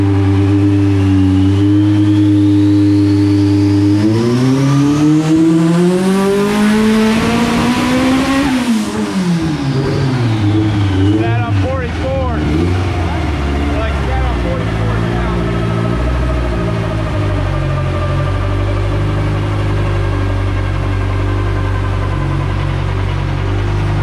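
A tuned Honda Prelude engine running on a Haltech setup revs loudly, sweeping up to a high scream and back down several times, then settles into a steady rumbling idle up close.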